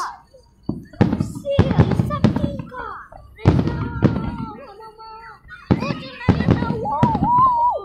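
Fireworks pop and boom in a series of sharp bursts a few seconds apart during a red, white and blue night display, while people talk and react in between.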